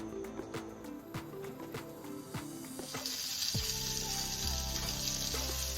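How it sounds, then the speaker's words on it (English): Steady hiss of oiled tandoori vegetables sizzling on a hot griddle, growing louder and brighter partway through, with a few clatters and a low hum underneath. "place the vegetables on the hot griddle"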